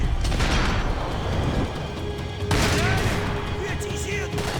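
Dense, rapid gunfire from the Max Payne 3 video game rattles almost continuously in a loud shootout, with a voice speaking over it.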